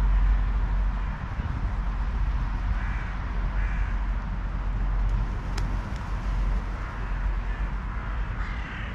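Birds caw from a roof in cold weather, a few fairly faint calls set against a steady, loud background rush.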